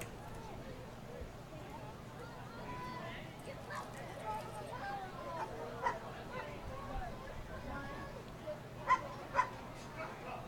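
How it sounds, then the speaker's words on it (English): Dogs bark at a minor-league baseball game between the Medford Rogues and Portland Pickles, making scattered distant yips and woofs under steady crowd murmur, with a couple of sharper barks near the end. "Hear those dogs barking."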